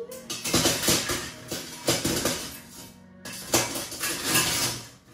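A kitchen utensil holder is handled, its metal cutlery clattering and clinking in loud, close bursts, pausing briefly mid-way before another jangling round of rattles.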